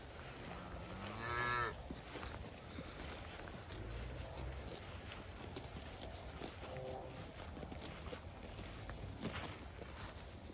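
Cattle out in a field, with a single moo rising briefly near the start over a steady background hiss and faint outdoor noise, then only quieter rustling and low sounds.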